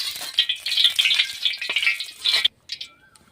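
Potato fritters dropped into hot oil crackle and sputter in a loud, busy rattle that cuts off abruptly, followed by a few faint pops.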